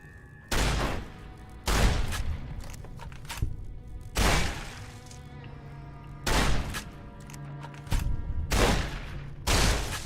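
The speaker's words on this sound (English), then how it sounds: "we probably want to use the shotgun" Shotgun blasts in Fallout New Vegas: six loud, broadband booms spaced a second or two apart, each followed by a short decay over a steady low game hum, with no talking.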